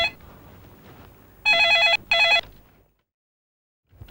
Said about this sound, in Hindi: देखो जरा किसका फोन है